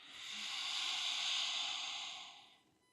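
A long, slow exhale through the nose or mouth during a gentle yoga flow, a steady airy hiss that swells, holds for about two seconds and fades away, close and fairly quiet, with no talking.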